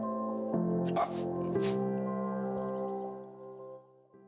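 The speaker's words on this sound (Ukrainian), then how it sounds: "Пес із ДСНС Патрон інформує" A dog barks a few times, short yips over a steady tonal background that fades away toward the end.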